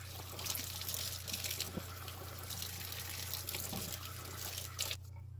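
Water runs and trickles steadily as sprouts are rinsed in a glass jar, a continuous close splashing wash that stops abruptly near the end.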